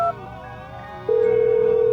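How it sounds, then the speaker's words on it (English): Telephone dialing tones sound in a rap song: two short beeps, then a long steady tone held to the end, clear and prominent over a low backing beat. "That's the phone"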